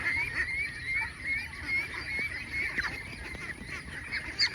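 Ducks squabble over scraps of food near a Vietnamese lotus tea house, with repeated nasal honking calls in a steady, busy stream that stays at close range throughout.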